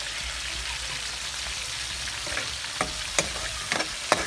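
Meat sizzling in a pan seasoned with salt and pepper while being stirred, a steady soft frying hiss with a few light scraping clicks near the end, no talk.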